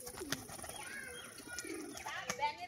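A male pigeon coos in several soft, rising and falling calls, faint and close, with a few light knocks in the background.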